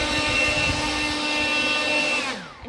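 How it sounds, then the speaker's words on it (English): A leaf blower blasts hay and gravel into a goat barn, a steady loud whining roar that holds throughout and then dips briefly near the end. "And you can just directly leaf blow it inside."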